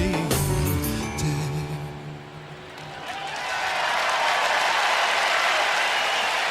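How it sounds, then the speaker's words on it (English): Audience of about 38,000 at the Eurovision Song Contest 2001 bursts into loud applause and cheering as music fades, the clapping building into a steady, dense roar. "they cheer anything here"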